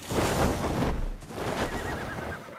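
Horses neighing in ARK Survival Evolved, heard at a pen of tamed horses, with layered whinnies and a dense, continuous wash of game sound that stays loud throughout.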